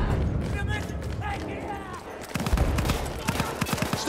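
An MG 08/18 machine gun fires in a World War I video game battle, rapid bursts of close gunfire breaking out over shouted voices and background combat noise.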